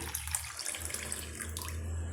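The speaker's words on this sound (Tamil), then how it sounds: "இப்போ 1 கப் அளவுக்கு நான் தண்ணி வந்து சேர்த்துக்கிறேன்" A steady stream of water splashing into a pot, continuous and close, with a faint low hum underneath and no voices.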